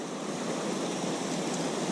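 A mountain creek on the trail to Summit Lake in the Hoover Wilderness, where snow lies nearby, rushes steadily and close by. The broad, even wash of flowing water runs unbroken from start to finish.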